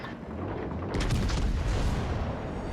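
Battleship guns fire in World of Warships Legends aboard the legendary battleship Bourgogne: a low rumbling barrage swells into a dense, loud burst of booms after about a second and keeps roaring steadily to the end.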